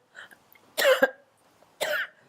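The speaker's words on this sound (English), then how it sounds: "I have to cough." Two short, sharp coughs a second apart, close and clear, with near silence around them.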